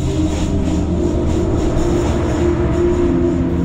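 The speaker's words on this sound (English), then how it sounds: "the old locomotives seem like they just might run out of steam before reaching the top, with their lengthy trains behind them" An old locomotive hauls a long train on the TAZARA railway between Tanzania and Zambia, a steady, loud, close rumble of engine and rolling wagons droning without pause.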